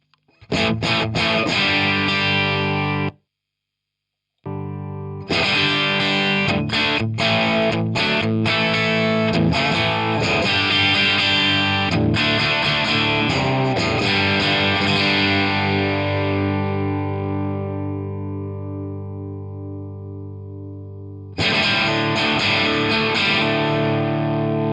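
An electric guitar runs through a Solodallas Schaffer replica into an SD50 amp with the volume around 6, playing loud distorted riffs and sustained chords. One brief silent gap breaks the playing, and a long chord fades before the riffing resumes.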